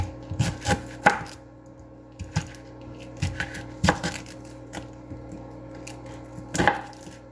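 A knife chops food on a cutting board for a crock pot, with irregular sharp thuds in small clusters, close and fairly loud, with some clatter and no talk.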